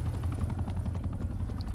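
An exfil chopper in Black Ops Cold War gives off a rapid rotor chop and low engine rumble, moderately loud and steady, alongside faint scattered game noises.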